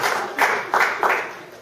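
Audience clapping at a poetry reading, a sustained patter of hands with three brief louder surges, close and moderately loud, with no talking.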